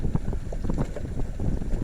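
Wind gusts buffet a small Carolina Skiff fishing boat in the rain, a loud, steady rumbling roar close to the microphone with rushing bursts throughout.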